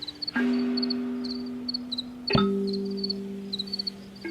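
Crickets chirp in short repeated pulses throughout, while two long sustained tones with sharp onsets sound beneath them, fairly loud and close.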